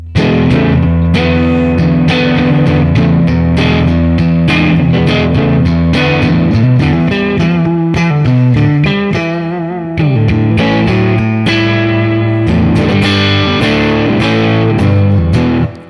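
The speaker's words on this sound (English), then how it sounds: "I have a Fender twin reverb here, and the way it crunches here, it's just awesome." A PRS Chesapeake Bay Bridge electric guitar plays chords and riffs through a crunchy, distorted Fender Twin Reverb tube amp, loud and continuous, with no voices.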